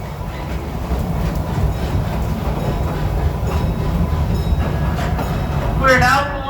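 A small amusement park train at Six Flags St. Louis rumbles and rattles steadily along the track into a station, wheels clacking beneath, with a brief squeal near the end and voices in the background.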